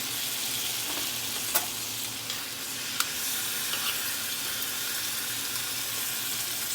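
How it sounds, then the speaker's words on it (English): Homemade gravy of stewed tomatoes sizzles in a hot pan, a steady soft frying hiss with a few faint clicks and scrapes from stirring, no voices. "So see how I'm making some gravy?"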